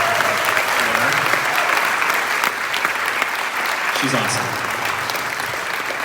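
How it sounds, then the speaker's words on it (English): An audience at a middle school band concert in Kyle, Texas claps in a dense, steady round of applause that lasts throughout, with a voice speaking briefly over it. "Let's give her a round of applause."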